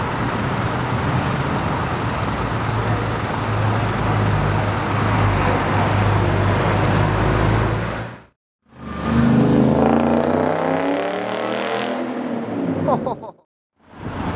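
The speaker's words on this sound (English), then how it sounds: "And here comes the GT2 RS." A Porsche GT2 RS sports car arriving and driving past on a street: a loud, close engine and road roar that cuts off abruptly, then rises again with a revving, shifting tone.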